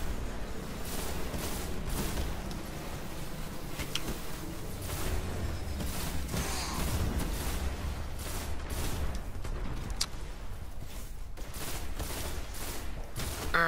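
Rapid bursts of gunfire crackle in the Destiny video game, with repeated sharp shots and volleys stacking over a steady rumbling battle soundscape throughout.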